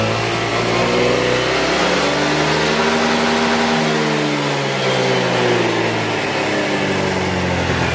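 Honda Click125 scooter engine revved hard twice in a shop setting, a loud close whine climbing and falling in pitch with no talk over it.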